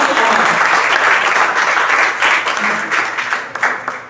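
Congregation applause during a sermon on true love: loud, dense clapping from a crowd, sustained for about three seconds, then tapering off into a few scattered claps.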